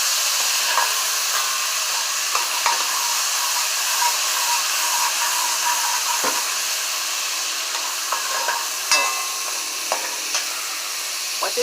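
Spices being blitzed in a blender while preparing fried Haitian dumplings with grilled peas, a steady loud whirring hiss throughout with small clicks and knocks, no talking.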